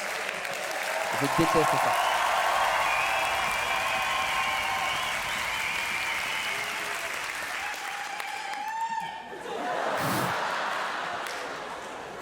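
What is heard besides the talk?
audience applause at a comedy show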